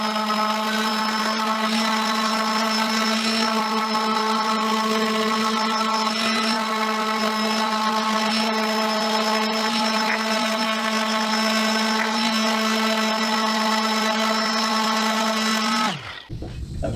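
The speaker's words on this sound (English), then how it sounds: "Now I'll take my random orbital, a small 5-inch random orbital, and I'll just kind of clean that up" A small 5-inch random orbital sander runs continuously over wood, a steady high whirring hum with a buzzing grind, close and loud for about sixteen seconds before it abruptly winds down.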